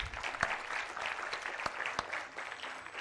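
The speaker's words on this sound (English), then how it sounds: "A round of applause for Ms. Aga, please." A room of people claps together, a fairly quiet and steady round of applause with a few sharper individual claps standing out.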